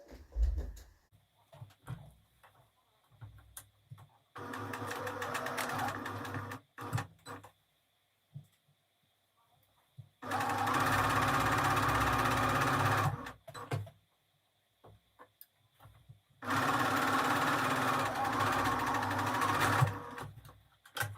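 Sewing machine stitching the end of a simple fabric pillow cover, running in three steady bursts of a few seconds each, separated by quiet pauses with small handling clicks.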